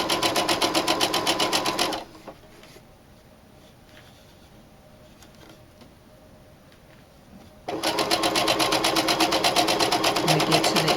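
Straight stitching on a sewing machine, heard as a close, fast mechanical whir in two bursts separated by a quiet pause of several seconds.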